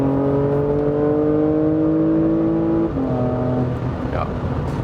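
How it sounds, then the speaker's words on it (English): A Porsche Macan GTS 3.0 V6 with its sport exhaust activated drones under acceleration, its engine note rising steadily before a brief dip like a gear change, with a voice talking over the steady engine sound. "I can also, activate the exhaust note on my own. There it is, activated. And when I accelerate, then you feel more difference in the sound."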